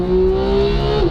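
A sports car engine winds up toward 9,000 RPM in a single sustained, loud and close rev, its strained tone climbing steadily before dropping off at the very end.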